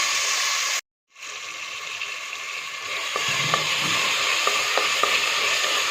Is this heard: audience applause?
no